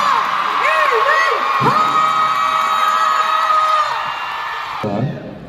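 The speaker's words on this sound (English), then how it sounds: "Let's give a big round of applause to our forever oppa" A crowd of fans at a K-pop fan meeting erupts in loud, sustained cheering and high-pitched screams, whoops and shouts layered into a dense roar that holds steady before dropping off abruptly near the end.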